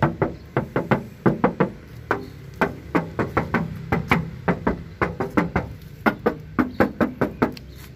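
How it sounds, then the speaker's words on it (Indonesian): Knuckles rap on the right-side body panels of a 1994 Daihatsu Taft GT 4x4, giving a long series of sharp, close knocks in irregular bursts with no voices. "Nah, kita ketok yuk bodinya bagian kanan."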